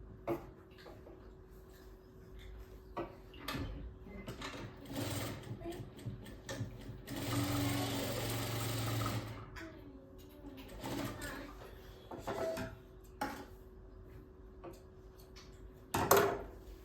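A sewing machine stitching a blouse lining runs in short bursts, with its longest steady whirring run in the middle, amid quiet handling noises and a voice.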